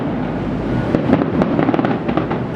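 Canada Day fireworks burst over Toronto Harbour in quick crackling succession, sharp pops and booms echoing off nearby buildings, fairly close and loud with no talk.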